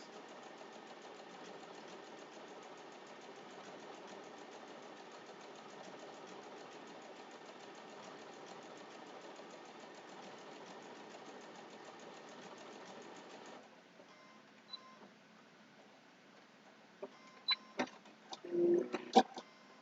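Close, steady whirring of a sewing machine stitching rows on a two-fabric potholder runs continuously before stopping, followed by a few faint clicks and handling knocks.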